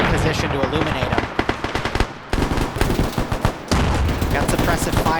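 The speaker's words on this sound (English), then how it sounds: "Got suppressive fire going out." Suppressive gunfire in the military shooter game Arma 3 during a large player-versus-player battle: dense, loud rapid bursts of automatic weapons crackle almost continuously, with a brief lull midway before the firing resumes.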